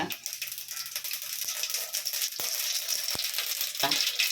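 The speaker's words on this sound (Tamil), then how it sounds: "இந்த கடுகு பருப்பு போடுறேன்" Mustard seeds and dal crackle and splutter in hot oil in a home kitchen while kaara kuzhambu with brinjal is being made, with close, busy sizzling and scattered sharp pops and clinks.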